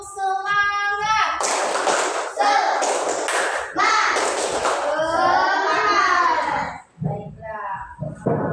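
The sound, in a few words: class doing a rhythmic clapping chant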